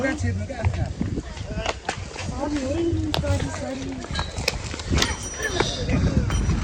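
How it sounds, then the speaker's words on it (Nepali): A horse at Swargadwari in Nepal clip-clops steadily on the ground as a rider mounts, the hoofbeats mixed with close, continuous conversation. "ल घोडाको पहिलो सवार हो कि दोस्रो सवार हो? सवार हुँदैछ।"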